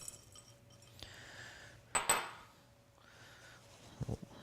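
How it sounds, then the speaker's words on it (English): Crispy bacon pieces dropped into a bowl of guacamole in a home kitchen, heard as a few soft clinks and scrapes of utensils against the bowl, with a louder clatter in the middle and small taps near the end. "We'll go ahead and put our crispy bacon in."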